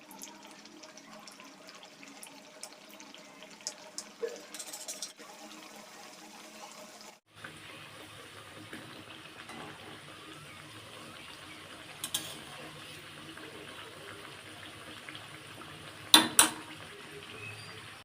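Snacks made from wheat flour or maida fry in hot oil in a wok over a medium flame, making a faint, steady bubbling sizzle throughout with a few brief louder clinks.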